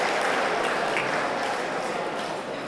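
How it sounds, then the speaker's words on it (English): A crowd at the Jelly Bean Ball 2022 gala applauds the event volunteers, a broad, fairly distant wash of clapping that holds steady and softens slightly toward the end. "round of applause, please, for all of those people I've too quickly mentioned"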